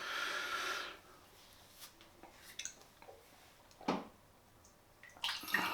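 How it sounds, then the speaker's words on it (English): A shaving brush is wetted under running water: a loud splashing gush for about a second, then quiet with a few scattered drips, squishes and small splashes close by. "So we'll get the brush wet."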